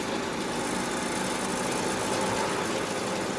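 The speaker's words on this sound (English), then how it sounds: "it's a lovely day to be driving around in this little 2CV" A Citroën 2CV's small engine runs steadily while driving, a busy, buzzing drone mixed with broad road and wind noise, close and constant, with no talking.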